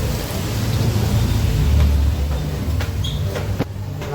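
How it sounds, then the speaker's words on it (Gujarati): Heavy rain pouring steadily in Surat, a dense continuous roar with low thunder rumbling underneath and a few sharp crackles near the end. "પાછો વરસાદ આવી ગયો સુરતની અંદર"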